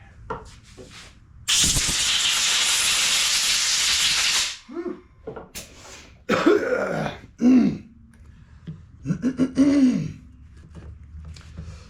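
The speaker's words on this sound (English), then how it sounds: "let me blow that out with air hose" An air hose blows out the carburetor of a Bolens push mower with a Briggs and Stratton engine: a loud hissing blast of about three seconds, then short bursts of air and handling noise with some muttering.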